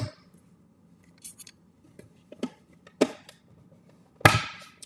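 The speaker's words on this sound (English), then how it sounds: "We'll die cut these out first." Several sharp cutting clacks from a die-cutting machine working card stock pieces for cake-themed greeting cards, scattered irregularly and alone in a quiet room, with the last crunch loudest.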